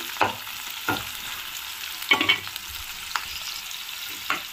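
Dried red chillies frying in a pan, a quiet background sizzle broken by several distinct scraping stirs spaced about a second apart, close and with no voices.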